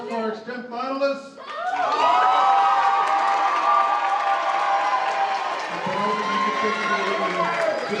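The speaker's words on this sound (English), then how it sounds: "So ladies and gentlemen, a big round of applause for our extemp finalists." After a spoken announcement, an audience at a national speech and debate tournament final round breaks into loud, sustained applause with cheering and whoops, full and close throughout, dipping slightly before swelling again near the end.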